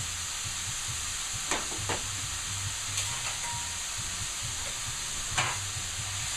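Fennel, shiitake mushrooms and leeks cook down in a pan with a steady low sizzle and hiss, broken by a few soft stirring scrapes.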